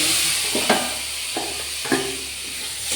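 Marinated goat liver sautéing in a pan for a spicy liver chachchari, a steady close sizzle broken by a few soft stirring scrapes at intervals.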